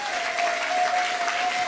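A church congregation at a French-language worship service applauds steadily and loudly for the whole stretch, a dense wash of clapping with a faint sustained tone running beneath it.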